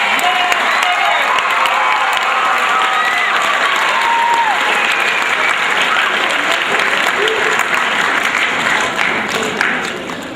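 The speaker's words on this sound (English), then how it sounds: "big round of applause for the 2 bus drivers" Steady, sustained applause from a crowd welcoming home a high school state soccer championship team, honoring the two bus drivers, a dense clapping wash that holds for about ten seconds with scattered cheers mixed in.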